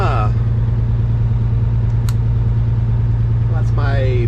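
Cabover truck engine idling after running for a while, a steady low rumble throughout, close and loud, with someone talking briefly over it at the start and end.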